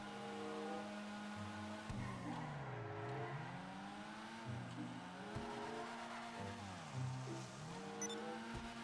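Volkswagen car in GTA 5 Online, a front-wheel-drive model, driving with a loud, steady engine tone that rises and falls through repeated revs and gear shifts, close and continuous with no talk.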